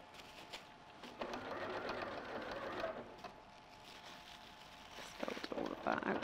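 Sewing machine stitches through fabric and plastic for a pumpkin purse, running in short buzzing bursts with pauses in between while a person talks over it.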